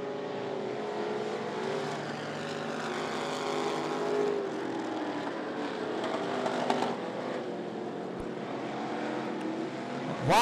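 Thunder class race cars in a heat race at I-75 Raceway, a continuous roaring and droning of several engines passing together at moderate distance, with no talking over it.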